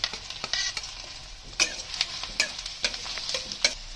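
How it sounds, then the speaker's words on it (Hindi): Chopped medium onions fry in oil in a pan while being stirred, giving a steady close sizzle broken by scraping and clinking strokes of the spoon against the pan. "अब इसमें मैं सारे वेजिटेबल्स डालूंगी। सबसे पहले मैं डाल रही हूँ अनियन।"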